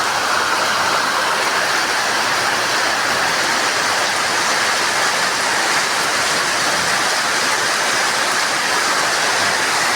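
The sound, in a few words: rain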